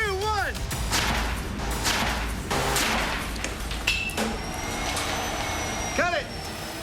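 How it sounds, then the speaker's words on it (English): A lawn mower blade breaks off its motor during a rock-throwing test, producing loud, harsh clattering bursts and crashes over a rumbling engine, with people shouting in the background. "that was the sound of the blade coming off of the motor"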